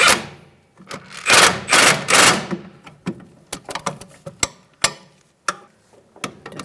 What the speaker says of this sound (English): Let's tighten these up. Make sure you have your wrench on the other end holding it.